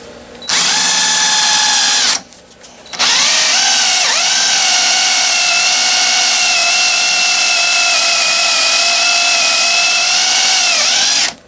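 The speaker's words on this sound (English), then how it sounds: "that's the other way I drill lumens" A power drill whines steadily while boring lumens, two long high-pitched runs separated by a brief pause, loud and close with no talking.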